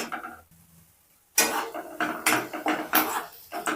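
A spoon stirs half a spoon of turmeric into okra in a pan, scraping and clinking against the metal in a quick irregular run after a brief quiet start.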